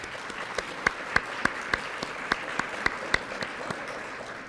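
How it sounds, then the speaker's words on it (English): Applause for hotel staff at a Hilton Hotel dinner event: a crowd claps steadily for several seconds, with sharp individual claps standing out over a moderate, roomy wash. "Let's give them a big round of applause."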